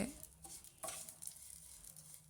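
Grated coconut roasts in a pan for dry fruit ladoo, with a soft, faint sizzle and brief scraping stirs of a spoon.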